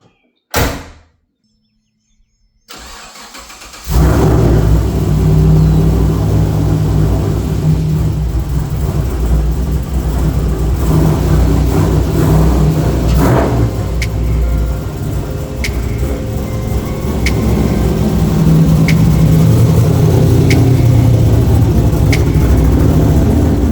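An LS3-swapped 1969 Camaro, fitted with Corvette Z06 and Ford parts, is running and driving, starting after a door thud and short silence, then a loud continuous engine drone with faint ticks over it.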